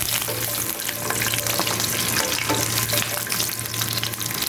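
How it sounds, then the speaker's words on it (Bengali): A whole garlic clove fries with meat in a pan over medium heat, a loud, continuous, close sizzle mixed with stirring scrapes and no voices. "এখন এই পর্যায়ে দিব আমি একটা আস্ত রসুনের কোয়া, এটাকে একটু ভাজবো এটার সাথে।"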